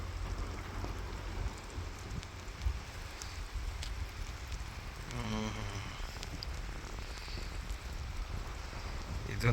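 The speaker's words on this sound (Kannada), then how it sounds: "ಮಳೆ ನೀರು ಕೃಷಿ ಹೊಂಡಕ್ಕೆ ಬೀಳ್ತಾ ಇದೆ." Rain falls steadily into an agricultural farm pond in Karnataka, a soft continuous patter of drops on water, moderately quiet and unbroken, with a brief low rumble partway through.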